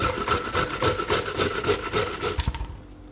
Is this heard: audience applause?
no